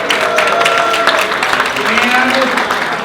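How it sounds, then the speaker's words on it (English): An audience at a chamber of commerce event applauds the mayor, a loud, sustained round of clapping with a crowd murmur and some voices mixed in. "Let's give the mayor a round of applause."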